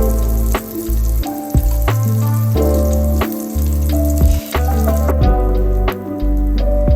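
Chicken sate taichan sizzles in margarine on a Teflon pan, a steady, loud frying crackle running throughout with no voices.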